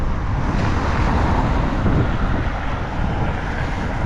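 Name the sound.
cars passing by on a noisy street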